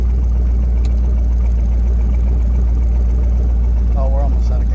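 An idling 1980 Trans Am with a swapped 5.3 V8 gives a steady, fairly loud low rumble that runs through the whole stretch, with a brief voice near the end.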